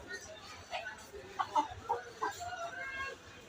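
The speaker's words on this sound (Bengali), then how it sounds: "এগুলো হচ্ছে আজকের কালেকশন মাসাল্লাহ অনেক সুন্দর সুন্দর মোরগ আছে" Hill roosters at a market give a few short clucks close by, a quick burst of calls in the middle over faint background murmur and a person talking.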